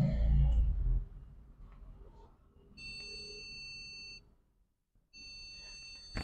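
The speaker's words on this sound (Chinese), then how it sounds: "还是一样会有哔哔哔的声音" A desktop computer repeatedly sounds error beeps at power-on while being checked for a corrupted display. After a burst of low handling noise, two long steady electronic beep tones ring out, separated by a brief silence.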